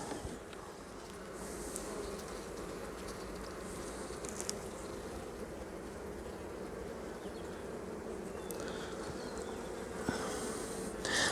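Honey bees from a queenless colony buzz steadily over the comb of an open hive, a dense, continuous hum that holds an even level throughout with no talking.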